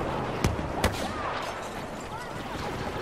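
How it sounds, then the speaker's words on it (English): Enemy blaster fire in Star Wars Battlefront, two sharp cracking shots close together early on, then scattered faint distant shots and whizzing energy bolts over a constant battle din. "Here's some guys shooting from out there."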